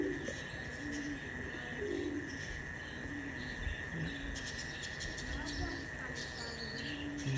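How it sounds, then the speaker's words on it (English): Wild pigeons and race-team pigeons coo in soft, low, repeated phrases beneath a steady insect and cricket drone, with occasional chirps outdoors. "a couple of wild pigeons trying to join up with them"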